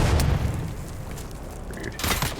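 A thrown grenade exploding in the survival game Dune Awakening, a heavy boom at the start, followed after a quieter stretch by a second loud burst.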